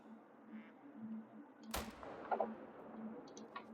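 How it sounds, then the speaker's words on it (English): A single sharp rifle shot at a mule deer in a hunting game, sudden and loud against a faint, quiet outdoor hum, followed by a soft fading tail. "Let's see if we can't crank a shot into him here."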